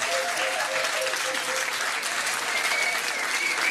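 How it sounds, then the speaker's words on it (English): A pub audience at a trivia quiz night claps steadily for the medal winners, dense, even applause lasting throughout with faint voices mixed in. "Give them a round of applause."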